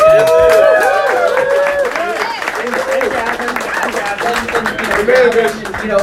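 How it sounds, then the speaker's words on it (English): A crowd at a New York speaking event applauds and cheers, with whoops and raised voices riding over loud, fairly close clapping that dips slightly midway, then swells again. "Give him a round of applause."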